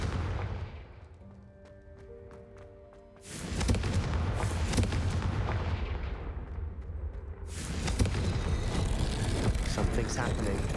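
Fire spell blasts in the video game Hogwarts Legacy: two loud, sustained fiery roaring bursts with crackling booms, the second coming after a brief quieter stretch, amid game sounds and a voice.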